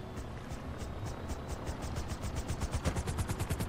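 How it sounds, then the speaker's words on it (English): Anti-aircraft defences on a yacht in the game GTA firing a steady rapid stream of flak bursts, a rhythmic pulsing rattle that grows slightly louder and denser, heard alone without talk. "Anti-aircraft defenses activated."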